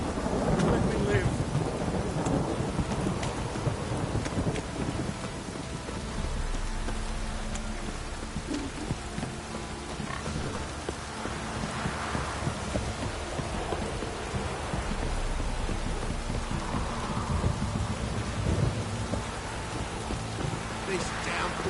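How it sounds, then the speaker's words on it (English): A heavy downpour with thunder in The Witcher 3, steady loud rain hiss filling the whole scene with deep rumbling underneath and a few swelling thunder rolls. "This downpour's a bastard, it is."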